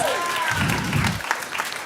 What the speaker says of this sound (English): Please give Martin a round of applause.